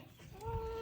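A chicken clucks once in a Jamaican backyard, a short faint call rising near the end of a brief quiet moment.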